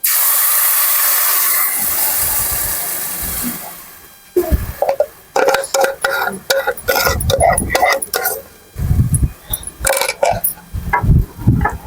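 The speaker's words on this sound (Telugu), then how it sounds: "నెయ్యి వేడయింది. ఇప్పుడు డ్రాగన్ ఫ్రూట్ వేసుకుంటున్నాను." Dragon fruit puree hits hot ghee in a kadai with a loud hissing burst that fades over a few seconds, followed by close, irregular sputtering pops and clatters from stirring.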